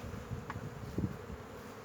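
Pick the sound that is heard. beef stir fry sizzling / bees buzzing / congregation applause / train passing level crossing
bees buzzing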